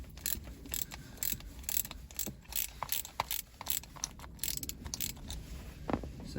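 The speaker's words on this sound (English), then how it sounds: "it's just a couple of bolts there that we want to undo." A hand ratchet undoing the bolts that hold the gearstick on a Ford Transit with an MT75 gearbox, rapid close clicking strokes repeated steadily over low background noise.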